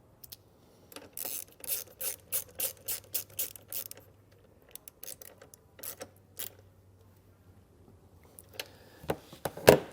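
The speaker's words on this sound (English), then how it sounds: "and then we'll tighten the nut back down." Ratchet clicking in quick bursts while tightening a nut over a wiring harness ring terminal on a 2022 Jeep Grand Cherokee, close and clear, with pauses between strokes and a louder clatter at the end.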